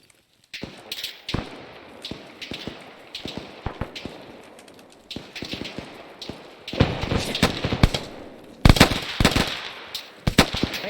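Gunfire in the military shooter Arma 3 during a modern milsim operation, including a full magazine dump: sharp, loud shots crack in irregular bursts and rapid strings, building to dense automatic fire, with no talking.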